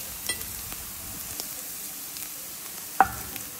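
Chicken fry with tomato paste being stirred in a HexClad frying pan: a steady moderate sizzle with light spatula taps and one sharper knock toward the end.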